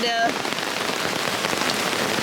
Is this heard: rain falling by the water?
yes